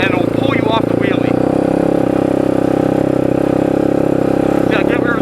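A motorcycle engine drones loud and close at a steady, held pitch while the rider pulls a wheelie in an open lot, and someone talks over the engine throughout.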